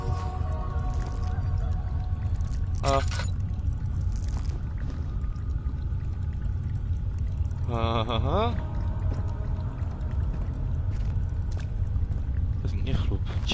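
Water gurgles and bubbles in a short, bright burst midway in the video game Amnesia: The Dark Descent, among faint pouring and dripping sounds, with a voice talking over the scene.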